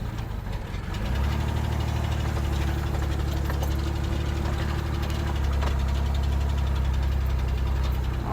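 A Chevrolet S10 pickup engine sits at a high idle, a steady, close, throbbing drone that settles in after a second and holds unchanged, with no voices.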